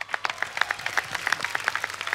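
Sparse applause from a studio audience on a Hindi comedy talk show, with separate claps landing in an uneven patter, moderately close and fairly light, no talking over it.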